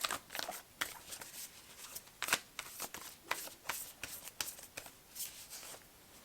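Tarot cards are shuffled and drawn in a run of crisp, papery riffles and flicks, each burst short and fairly close, with no talking over them.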